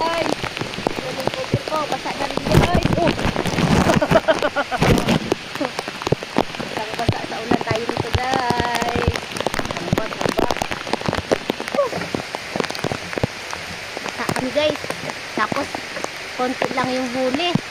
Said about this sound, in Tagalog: Kahit umuulan eh.